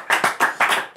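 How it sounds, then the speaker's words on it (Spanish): Audience applause after a short comedy show, with a few loud, close, evenly spaced bursts of clapping across about a second. "Un aplauso para Miguel Noguera"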